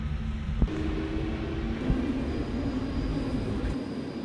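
A Paris metro train rolls along with a continuous low rumble and rattling wheels, a faint whining tone above, and a couple of brief clanks from the car, heard from inside without talk.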